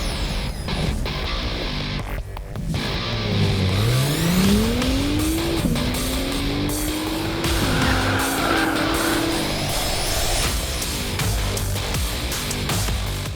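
A 2017 Acura NSX on The Thermal Club private race circuit, its engine rising steadily through the gears in a loud, close pass with a whine climbing in pitch, alone without talk.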